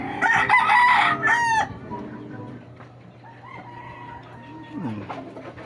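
Hens clucking and calling close by, a burst of loud squawking cackles at the start, then quieter scattered clucks over a low background hum.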